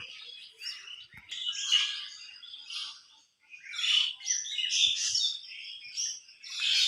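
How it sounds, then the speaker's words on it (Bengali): Small birds chirp and twitter in the trees of a village on a quiet morning, with busy bursts of bright calls that rise and fall and a short lull midway. "তোমাদের কার কার পাখির আওয়াজ ভালো লাগে অবশ্যই আমাকে বলবা"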